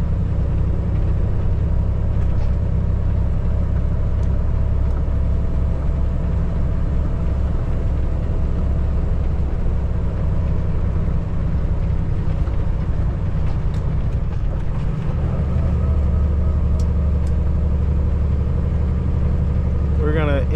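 A semi truck's engine labors in a manually shifted low gear while climbing a hill on a California road, a steady loud drone that deepens near the end, with cab rumble throughout.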